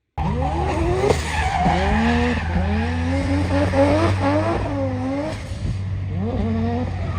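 A 1,000-horsepower Volvo drift car at a drift event screams through repeated rising revs and tire squeal, loud and close, sustained drifting with no pauses.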